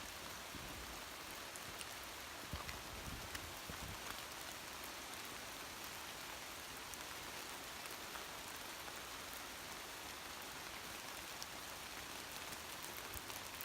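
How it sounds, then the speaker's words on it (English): Steady rain falls outdoors around a person standing in it, a soft, continuous hiss of drops that holds at an even, moderate level with no speech. "I'm getting rained on, ladies and gentlemen."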